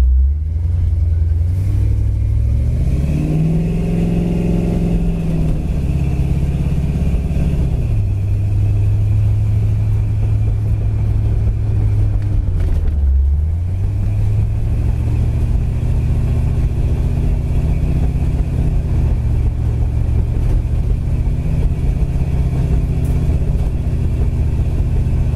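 A 1970 Ford Mustang Fastback resto mod rumbles loudly from inside the cabin, its engine revving up and settling back several times as it drives, a deep continuous drone.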